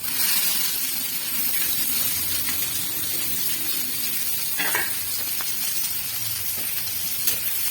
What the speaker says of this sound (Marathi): कांदा आता परतून घ्यायचा आहे.